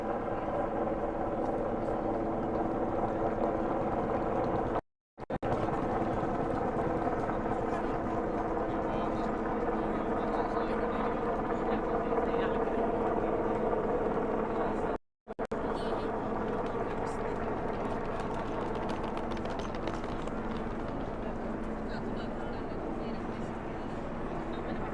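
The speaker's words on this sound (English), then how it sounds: "Yes, there's the helicopter." A helicopter arrives for a presidential visit in Helsinki, its rotor and engine drone steady and fairly loud for the whole stretch, broken twice by brief dropouts, with voices talking underneath.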